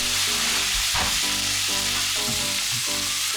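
Sliced pork belly sizzles and spatters in a hot oiled pan, a continuous close crackle with a few soft thumps of stirring.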